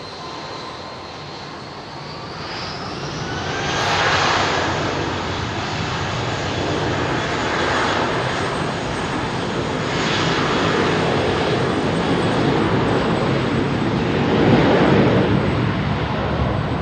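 Airliner with IAE jet engines idling on the ground at Heathrow, a steady broadband roar that swells slightly and holds loud throughout, with no voices.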